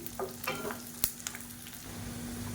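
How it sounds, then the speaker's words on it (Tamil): Pirandai and garlic fry in a pan with a soft, steady sizzle, interrupted by a few scattered clicks and one sharp knock of a stirring spoon. "இது ரெண்டுமே நல்லா வதங்கணும்"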